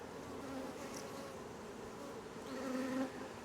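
Honeybees hum in a dense, continuous drone inside a hive, close and fairly quiet, with a brief swell of buzzing near the end.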